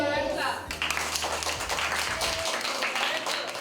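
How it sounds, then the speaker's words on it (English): Audience clapping for a young girl named Maria, a steady burst of applause filling the room with a voice audible at the start. "Give her a clap."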